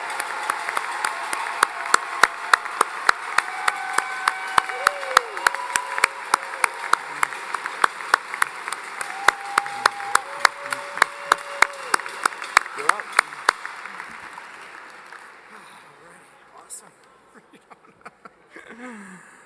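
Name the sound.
applause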